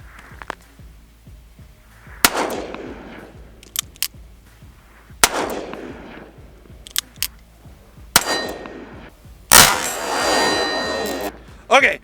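A Chiappa Rhino revolver fired single action, one-handed, outdoors: several sharp, loud shots spaced a few seconds apart, each followed by a ringing decay, with a metallic clang near the end.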